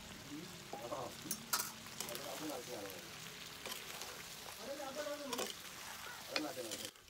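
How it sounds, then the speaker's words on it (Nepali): Ground spice paste with a little coriander powder fries and is stirred in a pot for a Nepali-style local chicken curry, giving a steady soft sizzle with scraping stirs and a few louder clatters, under occasional quiet talk. "थोरै धनियाँ पाउडर राख्नुहोस् अनि पिसेको मसला राखेर केही बेर मजाले चलाउनुहोस् मसला पाकुन्जेल"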